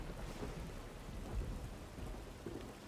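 Thunderstorm weather effect from the Strange Old Worlds video game: continuous heavy rain hiss with a low rolling thunder swell near the middle, steady and fairly loud throughout, with no speech.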